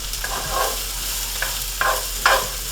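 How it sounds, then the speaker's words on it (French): Potatoes and onions stirred in a hot pan with a wooden spoon, a steady sizzle broken by several distinct scraping strokes, the last ones louder, close up with no talking. "Je vais brasser avec une cuillère de bois."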